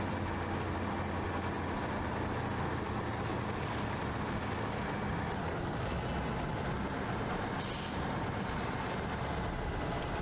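Truck driving through water in the SnowRunner video game, a continuous loud rush of churning water and engine rumble, steady throughout with a brief splash burst near the end.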